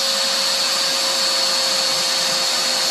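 An RCBS brass trimmer spins as it trims a brass case, giving a steady, close, high-pitched mechanical whir with a constant drone throughout.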